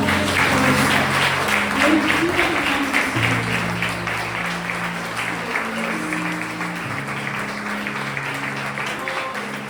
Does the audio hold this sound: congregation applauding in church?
yes